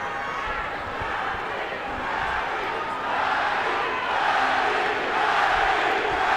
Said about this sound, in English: Crowd chanting, Manny, Manny, Manny, as we expected.